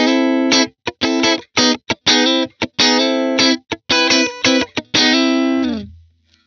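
Electric funk guitar through a Blackstar St James amp, recorded with a ribbon mic for a smoother tone, played as short, choppy rhythmic chords with clean gaps between hits, ending on one longer sustained chord that fades out.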